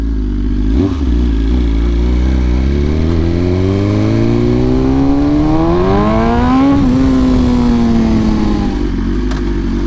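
A 2023 BMW S1000RR sport motorcycle engine, not started in a while, revs loudly and up close, its pitch climbing steadily to a peak before falling back to idle.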